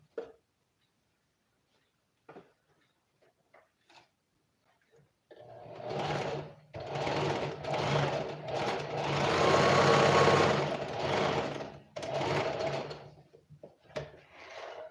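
Sewing machine stitching an elastic band onto pants, a steady whirring run of several seconds with brief pauses between bursts, close and fairly loud, preceded by faint handling clicks.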